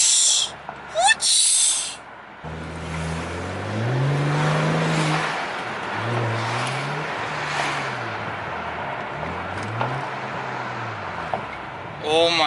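A BMW E92 fitted with a Burger Motorsports intake revs repeatedly, each throttle blip rising and falling in pitch through a loud, hissing intake roar, preceded by brief bursts of noise.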